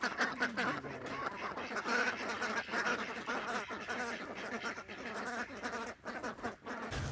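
Khaki Campbell ducks quack continuously in a flock on a backyard homestead, a busy overlapping chorus of close, loud calls.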